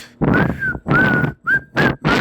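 Someone whistles a short tune in several phrases, the clear tone sitting over a noisy, rough background that swells and cuts out between phrases.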